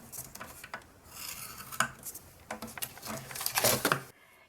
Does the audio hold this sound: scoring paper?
yes